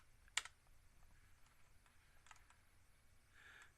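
Values are keyed in on a computer keyboard: faint, scattered keystroke clicks in a quiet room, with one sharper tap near the start and a few softer taps afterward.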